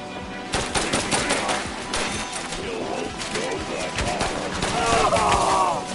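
Rapid automatic gunfire in the VR shooter Synapse, dense bursts of shots close and loud throughout, with a shouted voice mixed in near the end.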